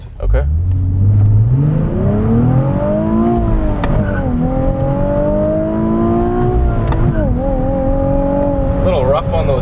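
A 2019 Nissan 370Z NISMO's engine revs hard under full acceleration, the pitch climbing steeply through gears with brief dips at shifts, loud and close inside the cabin, with a short spoken word near the start.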